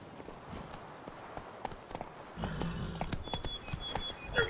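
Roach, Geralt's horse in The Witcher 3: Blood and Wine, trots along with a steady run of hoof clops that grows louder and busier partway through, mixed with game ambience.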